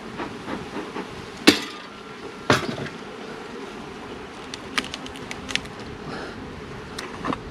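Honey bees crowd the lid of a beehive during a move to heather, a low, continuous hum of buzzing punctuated by several sharp knocks and clicks from handling, close by and without talk.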